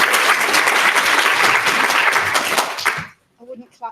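A live-stream event audience bursts into dense, loud applause that carries steadily for about three seconds, then breaks off abruptly as a voice starts speaking.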